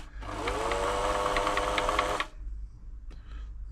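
The mechanism of a Singer 6104 sewing machine turns in a close, buzzing whir for about two seconds, then cuts off abruptly, followed by quiet and a single small click.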